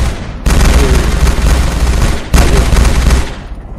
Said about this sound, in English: Who's the guy shooting at?